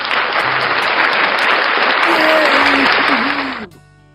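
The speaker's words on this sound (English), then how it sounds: "I clap for you." A group claps together in a dense, steady round of applause for about three and a half seconds before it stops abruptly, with a high cheering voice rising briefly over the clapping near the end.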